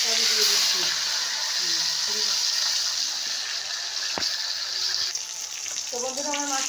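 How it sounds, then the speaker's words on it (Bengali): Pomfret fish frying in hot oil in a wok: a steady, close sizzling hiss that runs throughout, with a voice talking over it. "কড়াতে আমি তেল দিয়ে দিয়েছি। তো এবার মাছটা আমি দিয়ে দিচ্ছি।"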